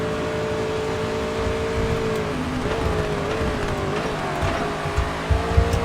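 A race car in TOCA Race Driver 3 held flat out, its engine droning steadily at high revs with slight pitch shifts and a few tire scuffs near the end.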